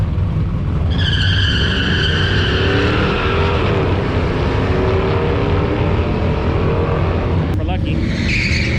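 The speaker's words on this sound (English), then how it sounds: "That one's losing traction." A hot rod on vintage magnesium alloy rims loses traction at a race event, its tires squealing in a long rising and falling screech over a loud engine roar, with a sharp crack near the end.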